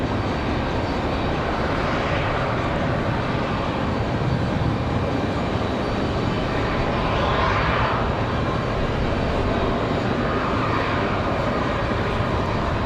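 Republic Airways jet departing Raleigh-Durham for LaGuardia, a loud, steady engine roar that swells and holds throughout, with no voices.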